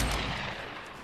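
A Fortnite player blows up in a trap: one loud, close explosive burst that hits hard at the start and then decays into a rumbling tail.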